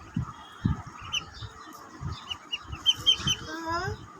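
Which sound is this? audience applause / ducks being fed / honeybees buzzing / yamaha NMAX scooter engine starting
ducks being fed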